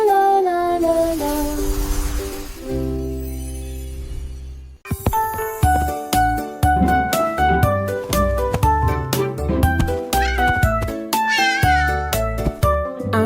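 A cartoon cat meows within a bright children's beach song, with short mewing calls set among sung melody and bouncy instrumental backing.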